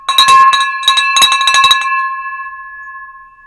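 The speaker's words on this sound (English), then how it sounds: "That was a good bell ring." A handheld bell is rung loudly several times in quick succession to celebrate a closed real estate deal. The clanging strikes give way to a long ringing tone that fades out.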